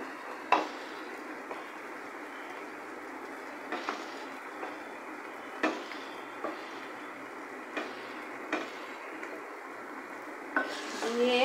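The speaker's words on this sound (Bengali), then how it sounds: "দিয়ে ডালের সাথে ভালো করে মিশিয়ে দিতে হবে।" Fried rohu fish heads being stirred into lightly roasted lentils in a pan, with soft scraping stir strokes repeating roughly every second or two over a gentle steady sizzle, close by and moderately quiet.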